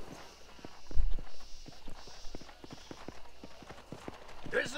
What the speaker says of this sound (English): horse breaking jobs